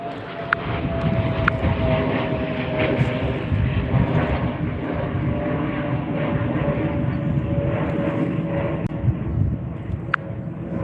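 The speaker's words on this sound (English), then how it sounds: "There's a plane over top of me." An airplane passes overhead outdoors, a steady broad drone with a faint high engine tone holding for the whole stretch, no voices heard.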